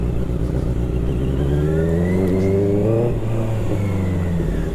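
A QJ Motor QJ 600 RR motorcycle (2024 facelift) revs on a test ride, its engine climbing in pitch through a strong, continuous pull with no talking over it.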